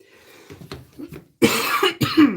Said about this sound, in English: Don't need to be coughing on y'all like that.